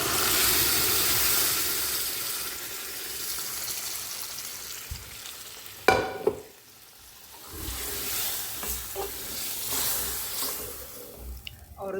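Dal tipped into a pan of softened tomatoes and masala sizzles and hisses steadily, with a clatter as it goes in, followed by stirring and a brief pause before the frying picks up again.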